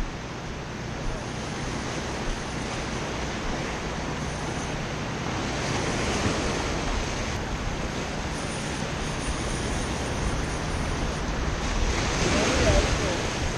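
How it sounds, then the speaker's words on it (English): Surf breaking steadily along a beach at Port Aransas, a continuous wash of waves with wind buffeting the microphone throughout, no clear talk. "Decided to go play in the surf."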